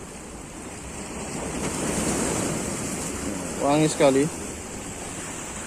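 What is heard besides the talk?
ocean waves at the shore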